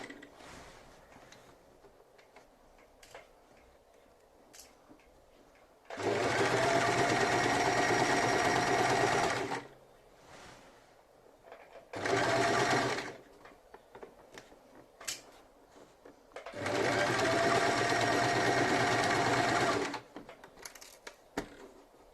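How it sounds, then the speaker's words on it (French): A sewing machine stitches bias binding along rounded edges in three runs, a long burst, a short one, then another long burst, loud and mechanical with quiet pauses between. "on essaie de faire une couture la plus droite possible"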